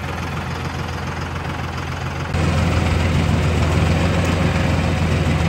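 A tractor fitted with a forklift idles close by. Its steady, rumbling engine drone grows louder partway through and carries on alone, with no talking.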